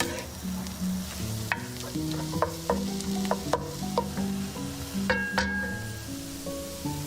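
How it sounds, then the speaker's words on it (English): Ground beef sizzles steadily in a hot pan, with occasional scraping and clicking from stirring over the constant frying hiss. "Look at sizzling."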